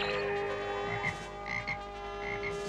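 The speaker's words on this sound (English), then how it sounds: "Surrender, He-Man, or Teela will remain a little frog forever." A cartoon frog, a character magically turned into a little frog, gives several short, regularly spaced croaks over a steady tonal hum.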